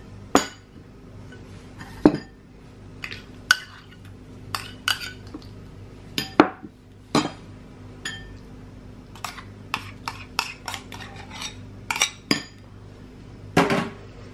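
Spoon clinking and scraping against a bowl while Russian salad ingredients are mixed, a run of sharp, close metallic taps at an irregular rhythm with no talking.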